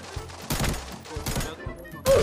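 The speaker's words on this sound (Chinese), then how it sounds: "前面有枪声，这枪声怎么这么密集啊？" Dense bursts of automatic gunfire in the shooter game Arena Breakout, several rapid rattling volleys separated by short pauses, loud and close with a sharp final burst.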